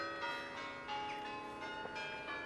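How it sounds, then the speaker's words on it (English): Church bells ring in a steady, layered wash of tolling tones, moderately faint and continuous with no talking. "Ringing the church bells"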